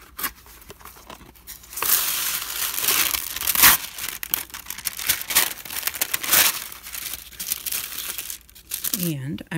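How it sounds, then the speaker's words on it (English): Parchment paper is handled and crinkled at close range in irregular bursts of crackling and rustling, with a few sharper tearing crunches. "And I'm going to cut a couple of strips off this parchment."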